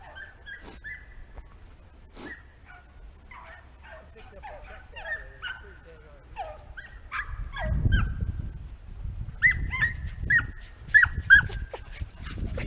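Hunting dogs baying and yelping as they run a cottontail rabbit trail in Missouri, scattered barks and bawls at a distance that grow busier and louder toward the end over rustling ground noise.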